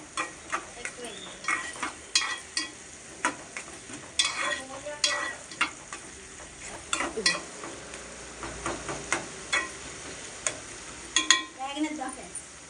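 Two onions frying in oil, stirred in a pan with regular scraping strokes of a spoon over a light sizzle, close and fairly quiet.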